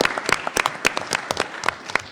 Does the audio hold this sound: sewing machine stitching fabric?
no